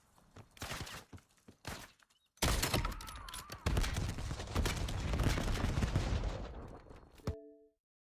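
Enemy gunfire in an action video game: scattered sharp shots early, then a long dense burst of rapid automatic fire, loud and close, ending in a short ringing tone.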